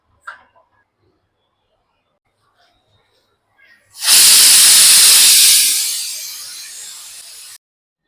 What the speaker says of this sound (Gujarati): ગેસની ફૂલ ફ્લેમ ઉપર 1 સીટી કરવાની છે